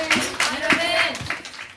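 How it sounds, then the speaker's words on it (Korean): Audience applause at a Christmas Eve church service, a short burst of clapping heard under a voice talking, moderately loud and close. "다시 한번 뜨거운 박수 부탁드립니다"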